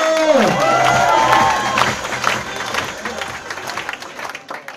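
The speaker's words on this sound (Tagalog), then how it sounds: "Mahina ang palakpak mo!" An audience at a large leaders' meeting claps and cheers loudly, rising shouts and whoops riding over dense applause that gradually thins and softens toward the end.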